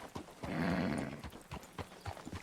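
Horse hooves clip-clop in a short run of hollow, evenly spaced knocks, moderately close, with a brief rushing swell in the middle and no talk over it.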